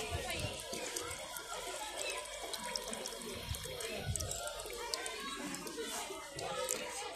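A push-button public drinking tap in a park in Olivais, Lisbon runs with a steady close splash of water, while people talk nearby and faint children's voices rise in the background.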